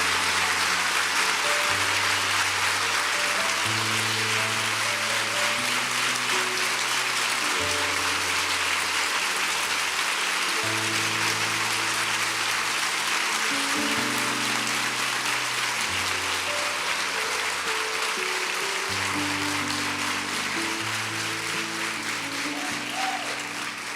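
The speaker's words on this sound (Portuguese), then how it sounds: "aplauda o nome de Jesus pela vida do João Batista." A church congregation applauds steadily for the whole stretch while keyboard chords play along underneath.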